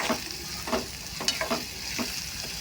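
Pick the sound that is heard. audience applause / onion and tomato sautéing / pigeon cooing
onion and tomato sautéing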